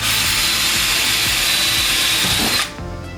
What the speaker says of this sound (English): Now we're drilling with the exact bit that those we need to put the rivets in.